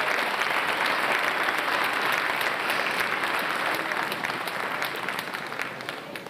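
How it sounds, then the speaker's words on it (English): A school concert audience gives a long, dense round of applause for sixth-grade band students, many hands clapping steadily before tapering slightly toward the end. "Give it a round of applause for that."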